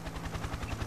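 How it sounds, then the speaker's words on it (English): A helicopter in the video game Ace of Spades gives a brief burst of rapid, rhythmic rotor thumping at a steady, moderate level. "You hear a helicopter"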